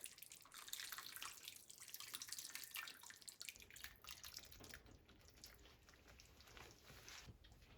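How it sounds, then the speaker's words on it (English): Water splashes and trickles steadily into a pan of braising beef brisket gravy, close and continuous, with a louder gush partway through. "I'm going to add a little bit more water just to top up the gravy."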